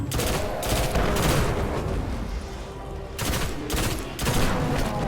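Red Death pulse rifle in Destiny firing at an Ultra Knight on the Dreadnought: loud, close bursts of rapid shots in three clustered volleys, with brief gaps between them and no talk.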